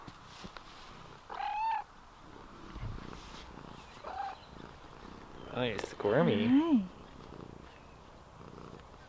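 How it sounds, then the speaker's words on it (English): A kitty on a farm purrs softly with a low, steady rumble while a person coos at it, and brief meow-like squeaks rise near the end. "we have another kitty that's going to say hi"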